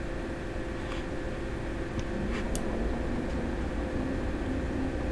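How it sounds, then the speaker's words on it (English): Computer fans hum in the background, a faint, steady broadband whir with a few constant tonal lines running unchanged throughout, with no talk. "I also noticed that you can hear my computer fans in the background."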